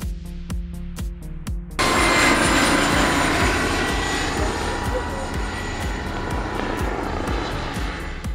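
A remote-controlled model fighter jet, a one-fifth scale replica, flying through the air. Its engine whine comes in loud and steady after a choppy, clicking start and holds for several seconds with no voice over it.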